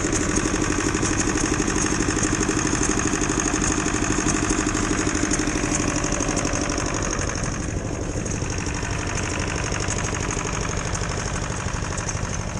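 Several steam rally engines idle and chug steadily at once, a continuous mechanical rumble that holds without pause, with no talking over it.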